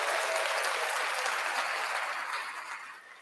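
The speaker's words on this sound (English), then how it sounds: "I got my applause back, bro." Applause sound effect played on a podcast, a dense burst of clapping and cheering that stays steady and loud, then tapers off over the last second, with no talk over it.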